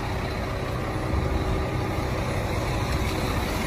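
A 1974 BMW 3.0 CS E9's 3.0-litre, 180-horsepower engine rumbles steadily as the car drives away, close and loud, with a deep, continuous drone and no pauses.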